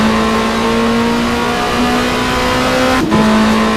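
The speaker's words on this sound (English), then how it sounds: "as you can tell, I'm driving an Alfa Romeo" An Alfa Romeo touring race car engine drones in the Race 07 WTCC video game on PC, a loud steady mid-pitched hum that briefly dips and shifts near the end as the car changes gear.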